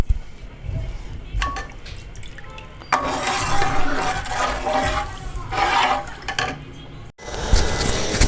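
Milk boiling in a pot for sohan halwa, being stirred with a spoon: a steady bubbling, liquid churn that swells louder partway through, close and continuous, with a brief break near the end.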